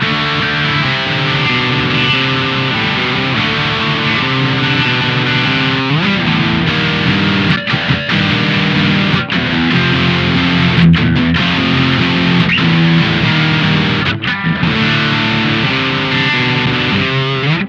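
An electric guitar played through a Fulltone OCD 1.7 overdrive pedal gives a loud, dirty, amp-like distorted tone, with chords and notes ringing steadily and clearly separated, alone without talk.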